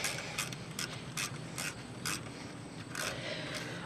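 Ratcheting clicks from tightening the brake cylinder bolts on a car's rear wheel, a run of short metallic bursts repeating roughly every half second, close and steady, with no talk.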